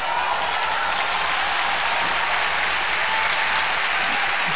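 Congregation applause during a church service, a loud, dense wash of many hands clapping continuously and evenly throughout, with no break.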